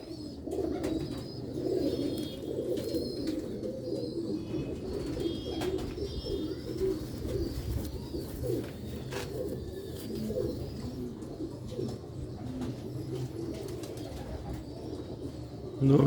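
Sialkoti pigeons coo in low, soft, repeated rolling calls, several birds overlapping close by with steady background noise and occasional faint higher chirps.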